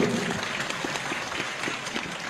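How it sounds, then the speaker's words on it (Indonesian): An audience at an Islamic lecture by Ustadz Abdul Somad applauds, a dense, even wash of clapping at moderate level throughout, with a faint trace of a voice at the start. "Tepuk tangan untuk beliau"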